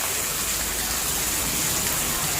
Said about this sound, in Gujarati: પહેલો જ વરસાદ મસ્ત આવ્યો હવે.